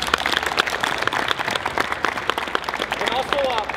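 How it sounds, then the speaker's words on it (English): An event audience at Longevity Sports Center in Nevada applauding, with dense, steady clapping from a crowd that runs the whole time and a voice talking over it. "Let's give them a round of applause, please."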